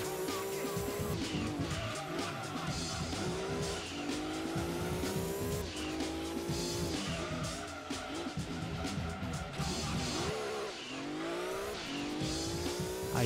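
A 900-horsepower race car in the PS1 game Gran Turismo 2 drones its engine continuously, rising and falling through gear changes with tire squeal, steady and loud throughout.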